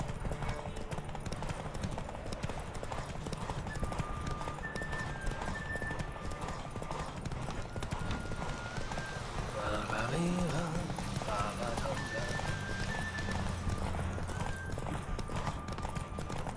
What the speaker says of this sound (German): Mein Pferd kann nicht mehr.